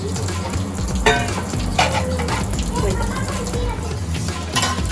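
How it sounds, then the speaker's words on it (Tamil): Steady, dense sizzling of hot oil heated in a pan for tempering spices, continuous and close, with occasional sharp crackles and faint metallic clinks over a low background hum. "தாளிக்கிறதுக்கு எண்ணெய் ஊற்றுறேன்."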